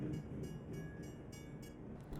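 Freight train rolling past a railroad crossing in American Truck Simulator, a steady low rumble of railcars with rhythmic clacking bursts, heard alone and fairly loud.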